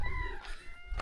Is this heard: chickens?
yes